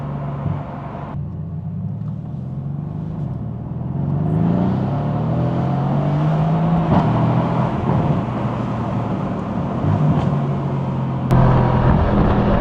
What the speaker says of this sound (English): I love that V8 rumble though.